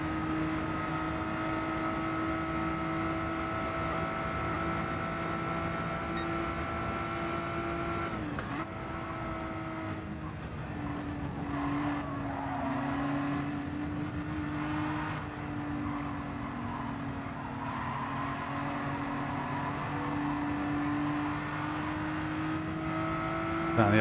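A BMW GT3 race car in a racing video game holds a loud, steady engine drone, with gear and pitch shifts midway as it battles for position during the Nations Cup. Talk runs over it.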